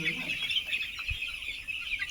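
Broiler chickens on a poultry farm cluck softly and intermittently, in a brief, close murmur of fowl sounds over a steady background hiss.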